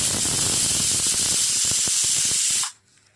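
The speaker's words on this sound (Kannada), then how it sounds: "ನೋಡಿ, ಒಂದು ವಿಷಲ್ ಆಯಿತು." A pressure cooker making fenugreek rice (methi bath) vents steam as a loud, close, continuous hiss that cuts off abruptly near the end, leaving near silence.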